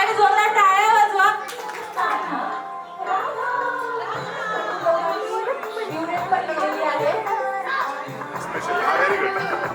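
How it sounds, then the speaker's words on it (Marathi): Guests at a traditional baby shower applaud together, loud clapping at the start that continues more loosely under chatter and voices throughout. "तर सगळ्यांनी जोरदार टाळ्या वाजवा."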